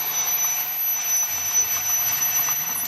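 A Fisher & Paykel generator motor driven by a VFD being reversed gives a steady loud electrical whine with high tonal squeals and a continuous droning hum, close and sustained.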